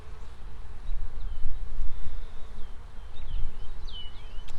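Honey bees hum and buzz around a hive in a continuous close drone, with a few individual bees whining past, no talking.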